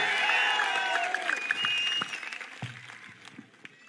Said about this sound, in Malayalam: ആ വടകരയുടെ കരുത്തുള്ള ഒരു കയ്യടിയോടെ പിഷാരടിയെ നമുക്ക് ഒരിക്കൽ കൂടി വേദിയിലേക്ക് സ്വാഗതം ചെയ്യാം